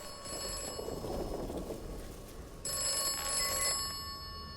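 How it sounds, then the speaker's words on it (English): In the video game Atomfall, a telephone rings in a continuous tone through rushing background noise, growing louder and brighter partway through. "Phone's ringing again."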